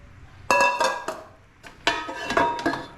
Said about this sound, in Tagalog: Magagamit na yung mga nakaimbak na kaldero.